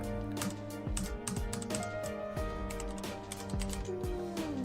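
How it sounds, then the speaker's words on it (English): Rapid keystrokes on a computer keyboard, irregular clicks scattered over a steady background of game music with sustained tones. "Got to unlock my keyboard to be able to do things"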